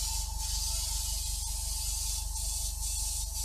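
An airbrush sprays acrylic paint with a steady, continuous hiss and a low droning hum from the compressor, held at an even level throughout with no talk.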